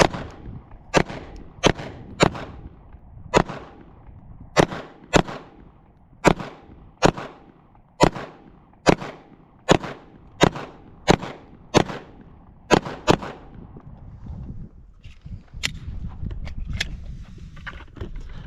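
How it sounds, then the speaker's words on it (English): A Glock 19X pistol fired at an outdoor winter range: about fifteen sharp, loud cracks in an uneven steady cadence, each with a short echo, followed by a few seconds of low rumbling background noise. "I'm gonna shoot the Glock 19X"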